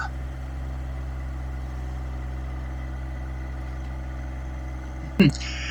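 A small John Deere tractor engine runs steadily nearby in a garden, a constant low idling drone, broken near the end by one brief sharp burst of noise.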